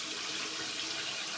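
Hot water runs steadily from a tap for shaving, a close, even hiss of flowing water filling a sink with no pauses or voices.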